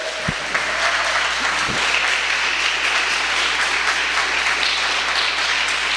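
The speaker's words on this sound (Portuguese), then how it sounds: "Você pode aplaudir ao Senhor, porque Deus é poderoso." Applause from a congregation during a church service, dense and steady clapping that holds at an even level throughout.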